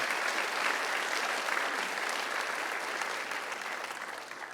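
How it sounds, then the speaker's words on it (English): Sustained audience applause fills a room at a Garland ISD school event, a dense, even wash of many hands clapping at steady loudness that tapers slightly toward the end, with no voices over it. "Let's give a round of applause for Miss Ellis for putting this together."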